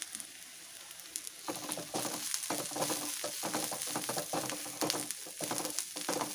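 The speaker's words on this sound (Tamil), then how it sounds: "இப்போ மஞ்சத்தூள், மிளகாத்தூள் கொஞ்சம் கொஞ்சம் போட்டுட்டு வணக்கணும்." Ground turmeric and chili powder sautéing in hot oil for a Kerala prawn roast, a steady close sizzle with frequent stirring scrapes and clicks throughout, no voices.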